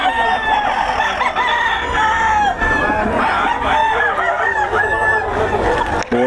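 A flock of chickens from Pampanga, Philippines, crowing and clucking loudly and close, several birds overlapping continuously.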